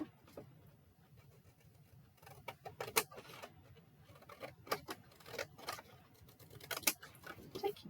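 Ordinary scissors trim the corners off a folded paper card, giving quiet, sparse snips and small clicks at irregular intervals against a near-silent room.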